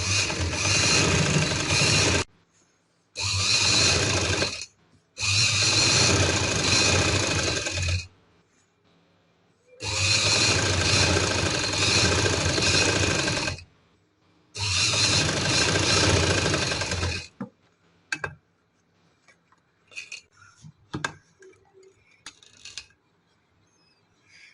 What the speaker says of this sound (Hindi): हम सिलाई लगाकर इसे सीधा कर लेंगे।